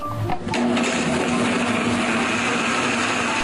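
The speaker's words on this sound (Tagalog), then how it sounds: "Saka pinaandar ang blender." A blender blending cooked rice with a little water whirs at a steady high pitch, starting with a short bump and then running continuously.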